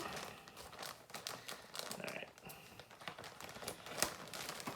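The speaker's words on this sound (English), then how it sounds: "I'm gonna try my best to take the tape off of this so I can open it" Tape is peeled and crinkled off a heavily taped package, producing quiet, irregular crackling and ripping bursts close to the microphone, with no talking.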